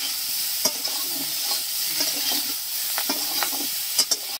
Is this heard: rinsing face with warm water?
no